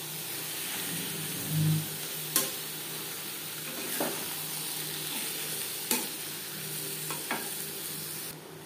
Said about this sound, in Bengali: 5-6 মিনিট পেঁয়াজ রসুনের সাথে মশলা কষিয়ে নেওয়ার পর দিয়ে দেবো খাসির মেটে